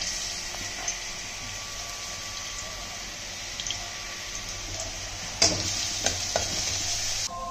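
Chopped garlic frying in a pan for a chicken pizza topping, a soft steady sizzle with faint clinks and light scraping, then a louder clatter and stirring toward the end, fairly quiet overall.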